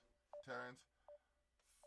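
Phone keypad tones from dialing a call, with short beeps spaced through the clip and a louder burst of tonal sound in between, all fairly faint.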